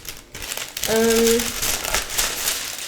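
Baking sheet paper is crumpled up by hand to make a wet palette, a loud, close, continuous crinkling, briefly joined by a short voiced sound partway through.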